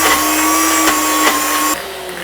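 A Ninja Foodi Nutri Duo blender runs at a steady high-pitched whine while blending frozen strawberries and banana. It drops abruptly in pitch and level near the end as the load shifts.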